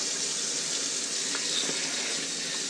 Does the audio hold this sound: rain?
no